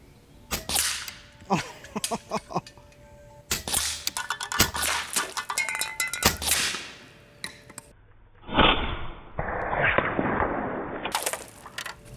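Evanix Max Air II .25 caliber regulated PCP bullpup air rifle shots striking cans: a rapid series of sharp cracks and metallic impacts, loud and close, followed by clattering and rustling.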